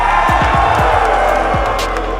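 A large crowd at the BLAST R6 Major grand final in Atlanta roars and cheers in a dense, sustained wall of noise, loud and close throughout the short burst.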